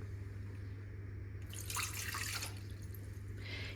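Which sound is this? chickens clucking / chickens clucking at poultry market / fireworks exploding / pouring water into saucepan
pouring water into saucepan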